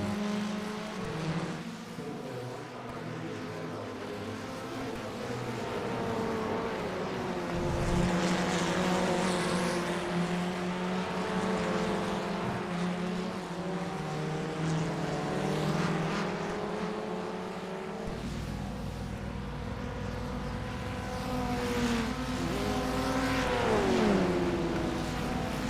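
An FF1600 open-wheel race car in the iRacing simulator at Oran Park, its engine droning steadily with rising and falling pitch sweeps through gear changes and corners, loud and continuous throughout.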